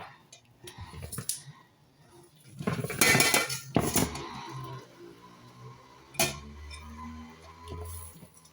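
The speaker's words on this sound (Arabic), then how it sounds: "غادي نديرها دابا في طنجره" Metal pot knocked and clinked while seasoned rib meat coated in chermoula goes into it, several sharp clanks and cutlery clinks at close range, with quieter handling scrapes between them and no talk.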